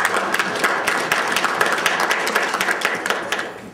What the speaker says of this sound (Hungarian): Most lehet tapsolni.